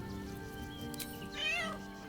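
A cat meows in Baldur's Gate 3, one drawn-out, rising and falling mew heard clearly over a quiet ambient background.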